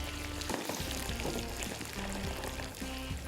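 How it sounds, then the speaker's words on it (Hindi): Prawns frying in hot oil in a home kitchen, a steady loud bubbling sizzle with crackling spits throughout, close up and uninterrupted with no talking. "इसके बाद सिंपली इनको 6 से 7 मिनट फ्राई करना है।"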